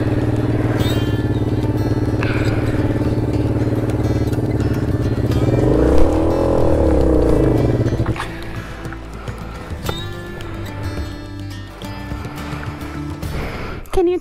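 Suzuki VanVan motorcycle engine revving off-road, a steady loud drone that climbs and dips before easing off, with voices talking over it.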